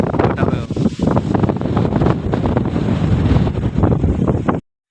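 Strong wind buffets the microphone in a loud, continuous roar that cuts off abruptly at the end.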